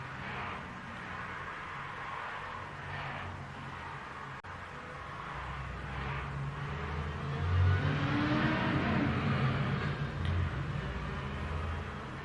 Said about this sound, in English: The traffic outside my house today is rather busy.